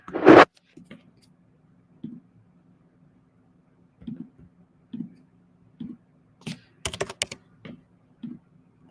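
Scattered single keystrokes on a computer keyboard are heard close and fairly quiet, spaced by pauses, with a quick cluster of clicks near the end over a faint steady hum.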